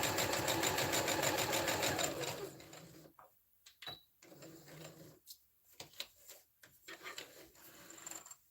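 A home sewing machine stitches a garment in a steady fast chatter for about two seconds, then falls into quieter scattered handling and fabric rustles.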